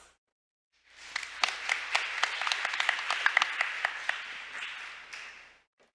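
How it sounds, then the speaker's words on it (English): An audience at a Korean maritime week conference session gives a round of applause, a burst of clapping that swells from silence, holds steady for several seconds and fades, with a few sharp distinct claps standing out. "Let's welcome them with a big round of applause."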